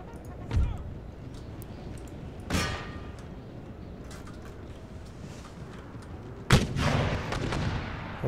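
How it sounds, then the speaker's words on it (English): Cannons, including a 12-pounder firing round shot, boom in an Empire: Total War battle, with three separate thumping blasts spread over a faint battlefield rumble, the last one loudest. "There goes our 12-pounder, firing some shot a little bit short there."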